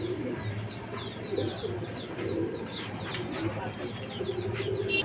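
Pigeons coo repeatedly at a fancy pigeon market stall, low rolling calls under steady background bustle with a few faint chirps and wing flutters.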